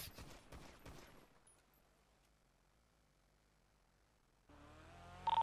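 Burst of rapid automatic gunfire in a GTA roleplay game lasts about a second, then near-silence follows and a low engine-like drone rises at the end.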